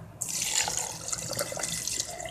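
Chilled water streams steadily into a blender for a couple of seconds, a continuous splashing pour heard up close.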